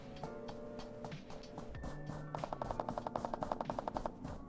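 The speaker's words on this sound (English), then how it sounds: "he's shooting at the glider" In the snowy battle royale game Ring of Elysium, an enemy fires at a glider: a rapid, regular burst of gunshots that starts midway, layered over a sustained game tone and distant effects.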